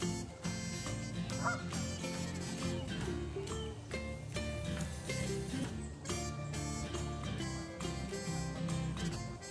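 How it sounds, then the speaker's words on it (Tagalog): Ducks and geese out in the wild keep up a loud, crowded din of honks and quacks, many birds calling over one another without a break. "Maingay na yung mga ducks."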